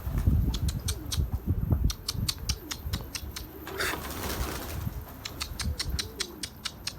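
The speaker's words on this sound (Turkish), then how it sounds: "Kuşlar uçuyor arkadaşlar görüyorsunuz" Pigeons in a flock take off and fly, with bursts of flapping wings and rustling close by alongside soft cooing, outdoors with no talk.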